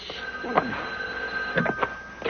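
A telephone rings in a French-dubbed drama scene, with a few short bell bursts and a steady electronic tone heard fairly quietly.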